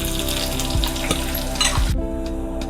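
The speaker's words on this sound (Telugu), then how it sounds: "వెల్లుల్లిపాయలు 3 సన్నగా కట్ చేసుకునేటివి. ఇవి వేగనివ్వాలి." Garlic, dried red chili and curry leaves sizzle steadily in hot oil for a curry tadka, a dense, close crackling frying sound with occasional stirring clinks and a brief shift near the end, no voices.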